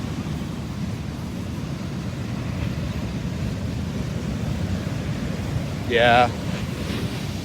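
Frothy sea waves wash steadily onto a beach after the supermoon, a continuous low rushing surf with wind buffeting the microphone, and a short voice briefly cuts in near the end.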